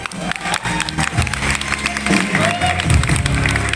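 Audience clapping at a film festival award ceremony in Kurukshetra, dense and continuous applause mixed with crowd noise and a few voices throughout.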